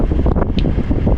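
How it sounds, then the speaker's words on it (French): Wind buffets a sailing boat at sea off Corsica between Calvi and Girolata, blowing a loud, steady, rough rush across the microphone for the whole stretch. "On a un peu de vent pour l'instant, mais il est de nord"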